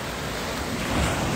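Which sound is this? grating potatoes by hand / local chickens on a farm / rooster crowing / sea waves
sea waves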